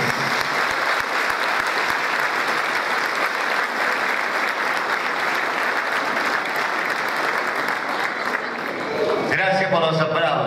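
Sustained applause from a large audience honouring the late Juan Germán at a traditional locro gathering, dense and steady for about nine seconds before thinning out near the end.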